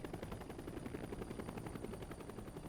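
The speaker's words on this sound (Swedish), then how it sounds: "En kung anländer med helikopter." A helicopter carrying the Swedish king, Carl XVI Gustaf, arrives, its rotor making a steady fast chopping thump that holds at a constant faint-to-moderate level throughout, with no one speaking.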